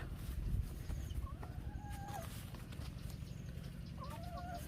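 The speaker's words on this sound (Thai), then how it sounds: "ไปเราไปเยี่ยมชมไก่กันเป็นไงบ้าง" Chickens on a farm in Suphanburi, Thailand, clucking and calling in short intermittent bursts over a steady low background hum, moderately near, with no talk.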